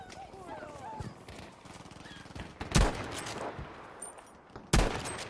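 Gunfire in the shooter Battlefield 5, with a few sharp, loud shots standing out near the end over a continuous bed of game noise, while a person talks throughout.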